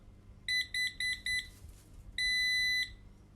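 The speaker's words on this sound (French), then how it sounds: "Bip long niveau 4." A Nokta Makro Pulse Dive metal detector sounds four short electronic beeps in a quick row, a brief pause, then one long sustained beep, clear and alone over a quiet background.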